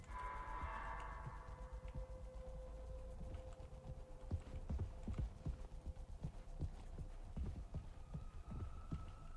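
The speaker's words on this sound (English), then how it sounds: "I hear his footsteps everywhere." A stalker's footsteps in Mouthwashing fall as a steady run of soft, low thuds beneath a constant droning hum, moderately near and evenly paced, with no voices.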